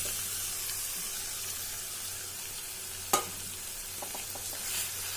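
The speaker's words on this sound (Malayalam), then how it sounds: "നമുക്കതിലേക്ക് മുട്ട ഒഴിച്ചു കൊടുക്കാം." Egg poured into a pan with drumstick leaves fries with a soft, steady sizzle and hiss, broken by one sharp spoon knock and a few light scraping stirs toward the end.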